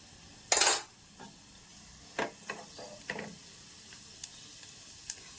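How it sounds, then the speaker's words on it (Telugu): Mustard seeds, urad dal and cumin spluttering in hot oil for a peanut brinjal chutney, giving sharp scattered pops and crackles, one loud burst followed by smaller isolated snaps against a low sizzle. "ఆవాలు చిటిపట్టలు ఆడితేనే బాగుంటుందండి"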